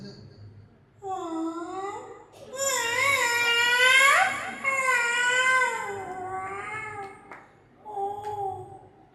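A person's voice imitates a kitten meowing, several drawn-out, wavering mews of varying length, fairly close and clear.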